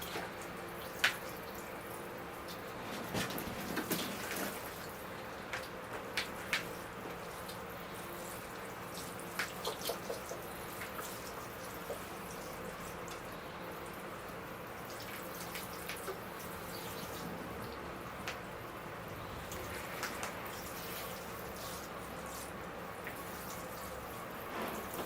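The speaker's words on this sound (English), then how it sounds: "All right, here goes the water now." Water poured from a watering can onto sand and moss in a small bog-forest bonsai planting, a steady soft splashing and trickling with scattered drips and small gurgles, close and continuous for about twenty-five seconds.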